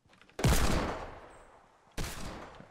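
Two loud, sharp Desert Eagle pistol shots in Fortnite Battle Royale, about a second and a half apart, each with a booming report that rings out and fades.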